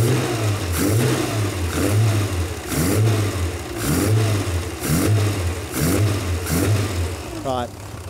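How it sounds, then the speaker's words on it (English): Cold engine fitted with Lucas mechanical fuel injection revving in repeated rhythmic blips about once a second, misfiring and popping on each rise, loud and close, with a voice briefly over it. "It's popping a bit because it's still a bit cold, the engine."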